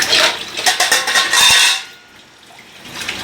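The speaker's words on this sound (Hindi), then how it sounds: "तो पूरा बर्तन पूजा को ही आज धोना है, सुबह के दोपहर के दोनों बर्तन" Dishes, pots and utensils being washed at a home sink: clinking metal and ceramic knocks over running tap water, loud and close for the first half, then fading to a quieter trickle.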